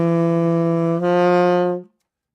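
A single low saxophone note played with the jaw pulled back, a steady rich reedy tone whose timbre brightens partway through, sounding alone and close before stopping abruptly.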